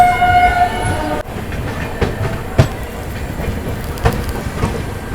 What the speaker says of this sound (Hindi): तो ये लीजिए भाई, गाजियाबाद को भी अपनी ट्रेन ने बिना रुके पार कर लिया।